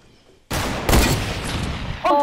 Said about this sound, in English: Oh, he just shot at me, that was so close